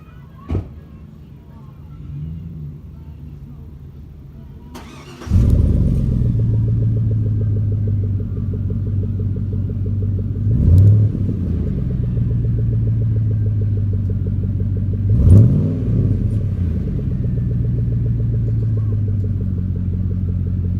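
A 2003 Chevrolet Silverado pickup truck engine with a cheap aftermarket black-tip muffler cranks and fires up, then settles into a steady, deep idle rumble with a couple of brief revs, heard up close.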